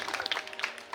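An audience at a kirtan claps in a brief, dense patter of many hands, moderately close and lively, with no voices over it.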